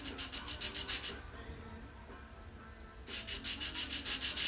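Bronze thrust washer for a 1980 Can-Am MX-6 125 being rubbed back and forth on an abrasive surface, rhythmic rasping strokes in two quick bursts separated by a quiet pause.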